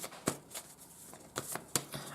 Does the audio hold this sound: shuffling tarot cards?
yes